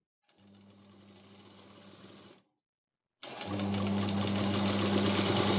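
Sewing machine running a long stitching line through blouse fabric and its lining, a steady mechanical hum that stops briefly, then resumes louder and faster, close up.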